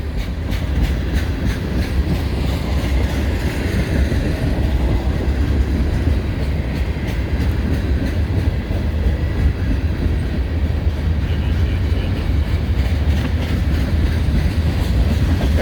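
A freight train rolls past the Canal Ridge Road crossing, a loud, close, unbroken rumble with rail clatter that holds steady throughout and no talking.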